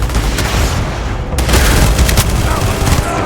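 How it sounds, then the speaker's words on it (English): Heavy-recoil guns fire in the video game Starfield, a rapid series of loud booming shots and bursts close up, dense and overlapping across the whole moment. "it is kind of interesting that the gun, the recoil is throwing us back."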